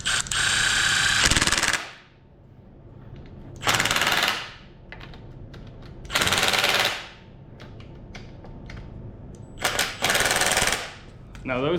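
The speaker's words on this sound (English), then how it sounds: "hit them with an impact, my nut driver on level 1" A handheld impact nut driver set to its lowest level rattles in four loud, close bursts of a second or so each as it runs bolts tight on a 2016 Honda CRF230F dirt bike, with brief pauses between.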